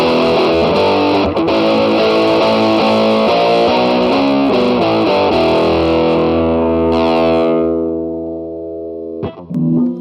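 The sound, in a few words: guitar amp tweed overdrive tone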